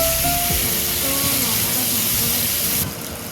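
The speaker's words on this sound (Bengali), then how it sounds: "দিয়ে দেবো টমেটো, আবার একটুখানি হালকা করে ভেজে নেব।" Tomatoes frying in a pan for Bengali sating fish curry, a steady loud hiss and sizzle of hot oil with faint utensil clinks throughout, easing slightly at the end.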